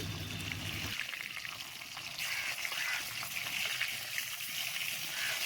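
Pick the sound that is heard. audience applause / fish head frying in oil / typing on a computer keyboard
fish head frying in oil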